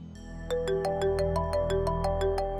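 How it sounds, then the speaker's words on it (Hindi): A phone rings with an incoming call, a repeating electronic ringtone of evenly spaced bright tonal pulses that plays clearly over a low background hum. "भाभी का फोन आया, जरूर इनकार के लिए कर रही हूँ।"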